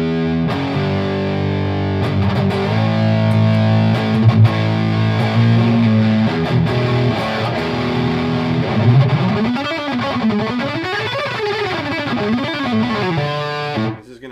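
Electric guitar through a distortion channel boosted by an Xotic EP Booster, sustained crunchy chords and then sliding, wavering lead bends for about fourteen seconds, loud and close, ending abruptly.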